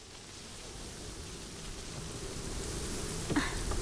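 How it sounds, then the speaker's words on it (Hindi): A steady, broadband whoosh of gusting wind and rain-like noise builds gradually, with no voices. "कितनी तेज हवा चल रही है"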